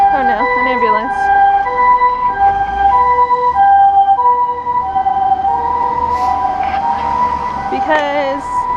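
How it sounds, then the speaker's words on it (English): Ambulance siren passing along a neighborhood street, a loud wailing, repeating tone that holds steady for several seconds with traffic rumble underneath, and a brief voice near the end. "Oh no, an ambulance."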